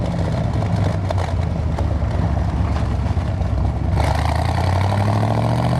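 Engine of a 1969 Chevrolet Corvette with stock-style equipment on a test drive, a steady mid-low drone with rough texture that shifts tone partway through as the revs change on a downshift, heard from inside the car.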